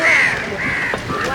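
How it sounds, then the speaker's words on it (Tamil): Crows caw loudly and repeatedly at a busy fish market in Valvettithurai, Sri Lanka, drawn-out harsh calls overlapping one another against steady outdoor market noise. "பாருங்க இவ்வளோ காகம் பறக்குது"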